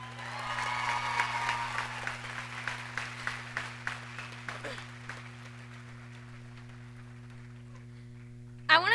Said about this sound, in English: Can we give them a round of applause real quick?